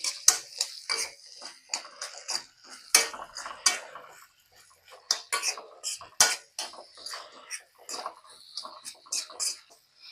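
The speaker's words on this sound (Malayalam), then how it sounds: "നല്ലോണം ഹൈ ഫ്ലെയിമിൽ ഒന്ന് മിക്സ് ചെയ്യാം" A spatula clinks and scrapes in a pan over high flame while chilli and tomato sauce are stirred into homemade chicken noodles, in irregular bursts of close metallic clatter with short gaps.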